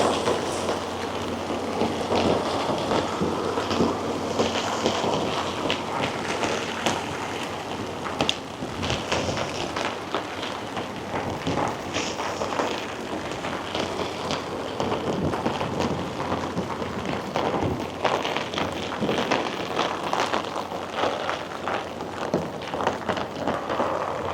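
Steady heavy rain falling by the sea in Whittier, Alaska, a dense continuous hiss with scattered louder splashes and gusts, no voices.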